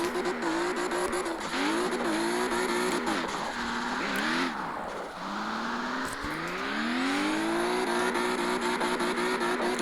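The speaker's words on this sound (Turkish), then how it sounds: "Aracın böyle tereyağı gibi kaymasına bayılıyorum ya" A car drifting in the video game CarX Drift Racing 2: a loud, continuous engine rev rises and falls while long tire squeals and skids sweep across repeated slides.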